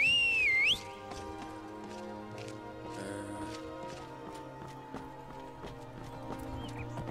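Horse in the video game Skyrim Wildlander: a shrill whinny opens, then steady clip-clop hoofbeats continue at a moderate level over a layered game ambience.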